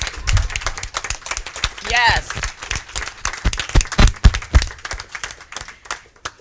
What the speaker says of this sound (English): I'm going to ask the candidates to stand up and give you a round of applause for being here.